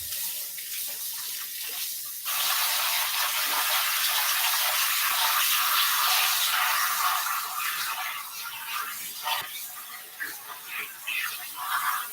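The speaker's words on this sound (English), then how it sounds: "And then I'm going to wash this off real quick." Tap water pours steadily into a sink while spinach is rinsed in a bowl, quieter at first and then a loud, continuous gush with light splashing, close by.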